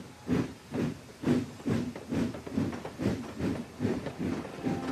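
A steam engine pulls away in the Trainz railway simulator with a steady run of rhythmic hissing chuffs, about two per second, close and moderately loud.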